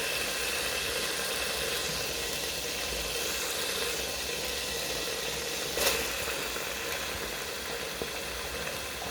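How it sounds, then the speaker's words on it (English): Onions and garlic sizzling steadily in a hot pan while cooking chicken rice, a constant dense crackling hiss lasting throughout, close and even, with one brief louder pop midway and no talking. "now I'm going to add the onions and garlic"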